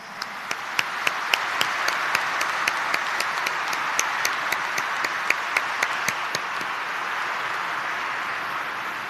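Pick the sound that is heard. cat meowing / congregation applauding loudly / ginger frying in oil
congregation applauding loudly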